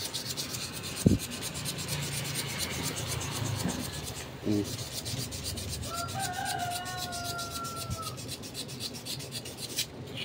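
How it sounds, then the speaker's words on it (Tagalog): Rough, repetitive rasping of coarse sandpaper rubbing against a table fan part during repair, steady back-and-forth strokes close by, with a few knocks and a brief squeak. "atin pong lilihain to mga ka-viewers ng medyo makapal-kapal na liha"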